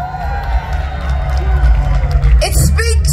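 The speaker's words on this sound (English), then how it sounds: "look at this crowd" A large crowd at a Holi Phagwah parade spanning several city blocks cheers and whoops in a steady loud roar of babble, with louder shouts rising near the end.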